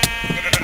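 A Minecraft sheep bleats in two short, loud, close calls within under a second, with a faint bleat between them.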